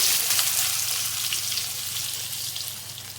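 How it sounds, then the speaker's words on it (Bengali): Onion fries in mustard oil with bay leaf, cinnamon, cloves and cardamom, giving a close, steady crackling sizzle that fades slightly over a few seconds, with no speech. "পেঁয়াজটা দিয়ে একটু লাল করে ভেজে নেবো তো দেখো পেঁয়াজটাকে একটু লাল করে ভেজে নিতে হবে"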